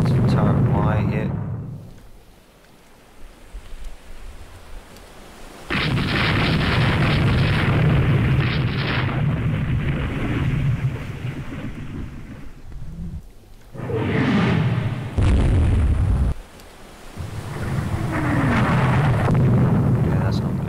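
Heavy booming blasts from shell hits landing on a warship in the naval strategy game Rule the Waves 2, several loud rumbling impacts in bursts with quieter gaps between.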